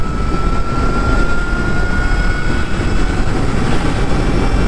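An Ultraviolette F77 Mach 2 electric motorcycle accelerates hard in ballistic mode, giving a loud, steady rushing roar of wind and road noise with a faint high motor whine held throughout.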